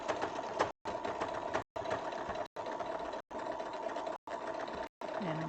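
A sewing machine stitches slowly around fabric in short, even bursts with brief stops between them, steady and close.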